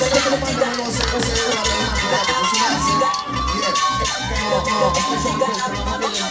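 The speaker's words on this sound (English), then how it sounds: "Getting quite a few screams out there, Sam Beckett." An outdoor event crowd in Brighton screams and cheers steadily throughout, a loud, dense wash of shouting voices with a rhythmic thumping beat underneath.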